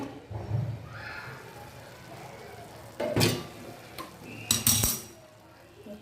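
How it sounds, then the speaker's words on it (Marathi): A lid lifts off a pot of steam-cooked moth bean vegetable and a spoon scrapes and stirs, giving a few loud metallic clanks and scrapes close by. "आता आपण झाकण जरा उघडून बघूया"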